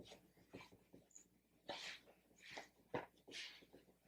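A pet dog, a female, shuffles and rustles on a freshly made bed in the background, giving faint soft whimpers and breathy snuffles in short, uneven bursts.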